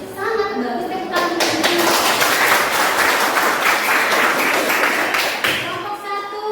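A school class applauds group presentations with a burst of clapping that swells, holds for several seconds, then fades as a teacher speaks before and after.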